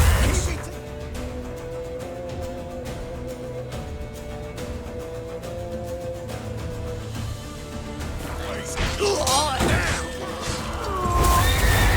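A horse in The Witcher 3 video game neighs loudly near the end amid clattering hooves, crashes and frantic game action, with voices shouting over the chaos.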